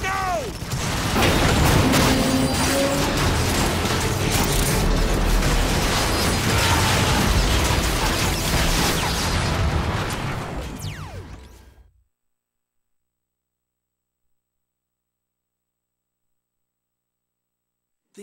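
Rocket blasts and combat in the video game Transformers Fall of Cybertron, a continuous loud roar of explosions and mechanical din with voices, fading out around twelve seconds into silence.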